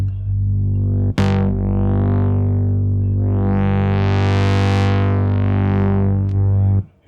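A heavily distorted Moog Sub 37 synthesizer tone, using its multi-drive distortion, drones loudly, its gritty overdriven timbre sweeping brighter and darker over several seconds.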